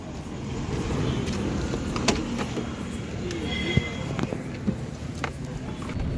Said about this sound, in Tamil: இப்போ நெக்ஸ்ட்டு நம்ம வண்டி எடுத்துகிட்டு கிளம்பிடலாம்.